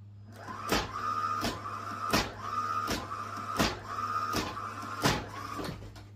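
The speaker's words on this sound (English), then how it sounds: "is your thrustmaster steering wheel. Do this every single time you start it up." Thrustmaster T300 steering wheel's motor self-calibrating at startup, swinging back and forth with a whirring motor tone and a sharp clunk at each end of travel, about seven repeated cycles over a constant electrical hum.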